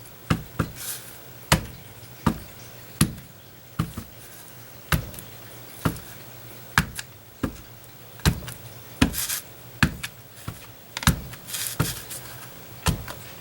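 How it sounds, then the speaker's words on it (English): Rubber stamp pressed again and again onto paper in a crafting session, a steady run of sharp close taps about once a second. "we're just going to randomly just keep stamping on an angle and off of the paper too"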